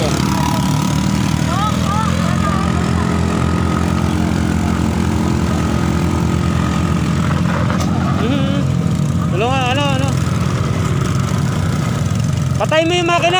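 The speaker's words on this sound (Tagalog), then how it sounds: "Patay mo yung makina." A vehicle engine runs steadily on a rough road to a waterfall, a constant low drone under people talking and calling out, with a few high squeaks and chirps near the end.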